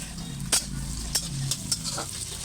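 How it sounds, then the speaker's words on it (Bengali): Potato and onion frying in a pan for a leafy greens dish, with a constant close sizzle and a few sharp scraping stirs spaced about half a second apart, and no talking. "তো এই আলুটা দিয়ে একটু ভালো করে ভেজে নেব"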